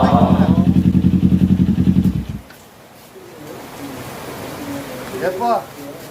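A Kawasaki Ninja 400 with an SC Project exhaust idles loudly with a rapid, throbbing pulse close by, then cuts off, leaving quiet outdoor background with birds and a voice speaking.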